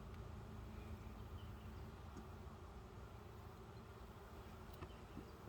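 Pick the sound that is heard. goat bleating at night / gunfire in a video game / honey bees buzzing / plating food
honey bees buzzing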